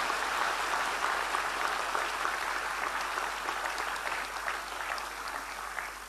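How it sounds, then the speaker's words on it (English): An audience at a golden jubilee celebration in New Delhi claps for the dancers, a sustained, dense round of applause that holds steady and eases slightly toward the end. "Please give them a big clap."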